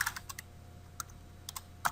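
Keystrokes on a computer keyboard while configuring NetFlow on a Cisco router: sparse, quiet clicks in small scattered bursts, with a brighter cluster of taps near the end and no voices.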